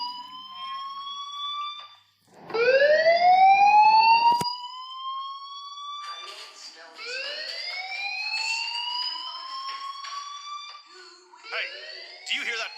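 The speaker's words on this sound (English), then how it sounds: "do you hear that fire alarm?" A rising, wailing fire alarm tone in the video game Life is Strange repeats in long sweeping cycles, loud and piercing, with a sharp click and faint voices in between.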